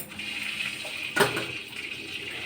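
Tap water running steadily in a home kitchen while dishes are washed, an even hiss with one brief clatter or splash midway, close and moderately loud.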